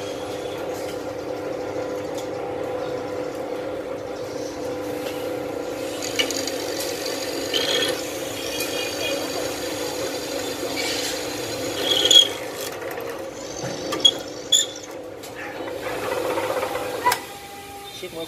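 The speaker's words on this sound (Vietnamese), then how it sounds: "Rồi để sẽ cùng nhau khoan thử." A Hitachi bench drill press about one metre tall running and drilling in a workshop, a steady mechanical hum with scraping, clicking handling noises and a few sharper knocks, continuous and fairly close throughout.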